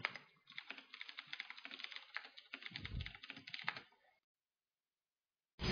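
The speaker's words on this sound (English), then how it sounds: "just going to type something in chat quickly" Rapid typing on a computer keyboard during a StarCraft match, dense clicking keystrokes up close for about four seconds before falling silent.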